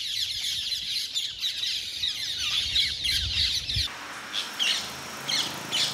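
Feral parrots in Kawasaki, Japan, squawk and chirp in a shrill, busy chorus close by, with a low rumble beneath the first few seconds that then drops away, leaving the calls on their own.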